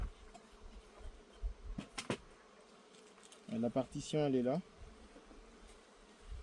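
Honey bees buzz around an open hive during an autumn apiary inspection, a steady insect hum with louder passes close by, while a person speaks briefly and some handling knocks sound.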